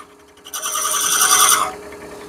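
A wood piece spinning in a lathe chuck is shaped with a tool, giving a bright, steady rasping scrape that starts abruptly, holds for about a second, then stops, loud and close with no talk.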